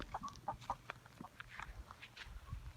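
Chickens cluck softly nearby in short scattered bursts, with faint rustling and a low background hum.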